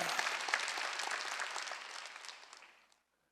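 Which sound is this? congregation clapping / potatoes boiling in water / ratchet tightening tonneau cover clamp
congregation clapping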